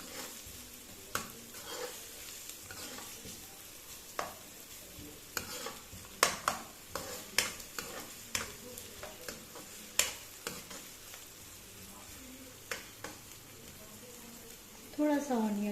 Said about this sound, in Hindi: सौटे कर लेंगे।